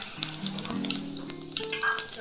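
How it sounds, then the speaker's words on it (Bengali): Whole garam masala spices crackle and sizzle in hot oil in a pan, close and steady with occasional stirring clicks, and a faint voice sits in the background. "গোটা গরম মশলা ফোড়ন দিয়ে রান্নাটা শুরু করছি।"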